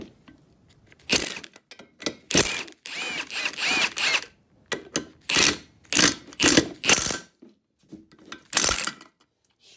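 Tools work loose the cylinder head of a 212 Predator small engine: bursts of loud ratcheting and clattering metal, irregular and close, separated by short quiet gaps.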